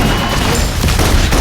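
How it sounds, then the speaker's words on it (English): Rapid suppressive gunfire from the video game Love and Deepspace, a dense continuous barrage of loud overlapping shots and booms filling the short moment with no voices. "Requesting full suppression gunfire."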